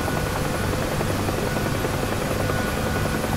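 UH-1H Huey helicopter in the DCS flight simulator over Nevada, a steady loud rotor and turbine drone filling the whole stretch without a break.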